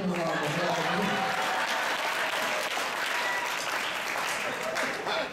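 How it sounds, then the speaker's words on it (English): An audience applauds at a motivational speaking evening, a dense, loud, sustained wash of clapping that fills the whole stretch and tapers slightly near the end. "Give her a round of applause."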